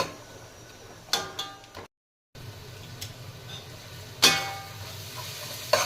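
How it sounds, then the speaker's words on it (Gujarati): Onions sauté for misal in a hot pan with a quiet, steady sizzle. Occasional sharp clicks and scrapes of a stirring utensil break through, with a brief silent gap partway. "કાંદા સરસ સોતરાઈ ગયા છે."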